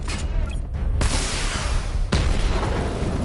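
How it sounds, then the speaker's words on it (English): Missile barrage explosions in the Batman Arkham Knight video game: a loud, dense wash of booming blasts with two sharp onsets, continuous rumbling impacts filling the whole stretch without pause. "Destroy targets to charge up weapon energy and activate missile barrage."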